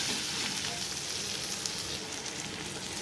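Chopped onion, ginger garlic paste and tomato fry in hot oil, a dense, continuous close sizzle with faint stirring.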